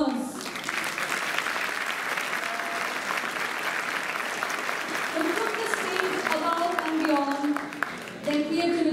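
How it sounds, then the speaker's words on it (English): A theatre audience at a World Theatre Day celebration applauding performers in a sustained, dense wash of clapping, with an announcer's voice and a few cheers rising over it toward the end. "A huge round of applause,"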